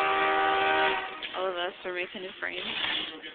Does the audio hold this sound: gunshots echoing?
no